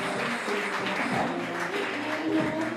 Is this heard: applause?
yes